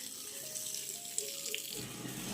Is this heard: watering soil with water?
yes